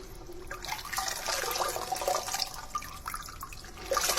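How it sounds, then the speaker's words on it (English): Steady rushing and trickling water, like a tap or flowing stream, plays in a film's soundtrack, moderately loud and continuous with brief louder surges near the end. "Ooh, water noises."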